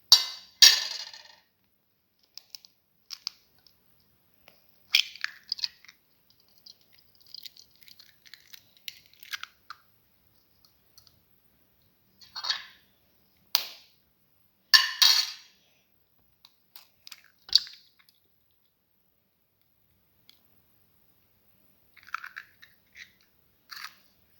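Two eggs are cracked and beaten for an omelette, heard as scattered sharp clicks and short bursts of tapping and whisking against a bowl, close and dry, separated by quiet gaps.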